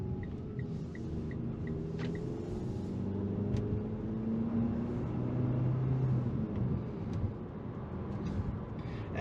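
A 2022 Mitsubishi Eclipse Cross SEL compact SUV accelerates to merge into traffic, heard from inside the cabin as a steady low engine and road rumble with faint tire noise, continuous and without speech.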